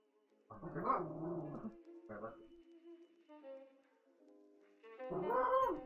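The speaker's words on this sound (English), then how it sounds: "What do you want, dog?" A dog growls and barks in short bursts indoors, loud and close, with a pause between outbursts; people talk nearby.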